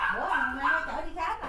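A rescued dog picked up from an elderly woman in Vietnam gives short high whimpers and yips, close to the listener, with a steady background noise beneath.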